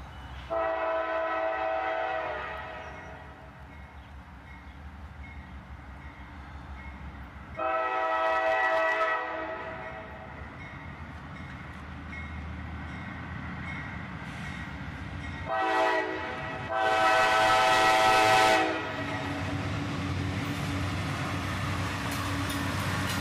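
A northbound freight train led by a Dash 9 locomotive with a Dash 8 behind rolls past on the track, a steady rumble of wheels and engines broken by three loud horn blasts spread across the passage.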